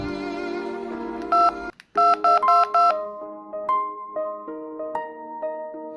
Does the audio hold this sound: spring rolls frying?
no